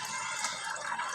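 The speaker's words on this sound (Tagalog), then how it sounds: "Kuha muna tayo ng tubig sa gripo." Water runs steadily from a tap, a continuous close hiss and splash with no talk over it.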